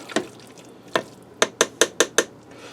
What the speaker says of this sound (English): I'm just stirring that to blend that cheese in there good with our sauce